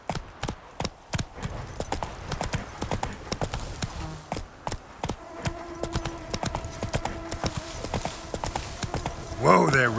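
Steady clip-clop of the horse Roach's hooves in The Witcher 3, a regular trotting rhythm up close with a brief whinny-like sound near the end.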